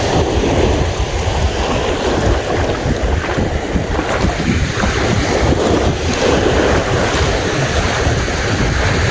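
Sea waves rolling over a shallow rocky shore where people fish, a constant loud wash of surf mixed with heavy wind buffeting the microphone, with no talk.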